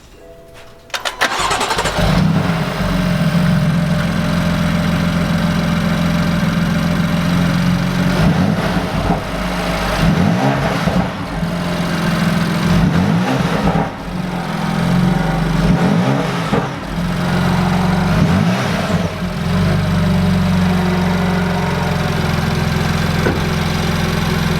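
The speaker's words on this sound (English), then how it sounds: "So that's a cold start right quick." A BMW F80 M3 with its stock intake cold-starts: the starter cranks, the engine catches with a loud flare, then settles into a steady, high cold idle, close and loud with no talking.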